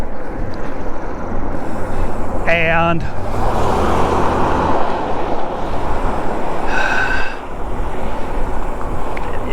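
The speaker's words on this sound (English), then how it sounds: "Got a car coming up." A car approaches and passes on a road beside a rider on an e-bike, a swelling roadway rush with wind noise, while someone speaks briefly over it.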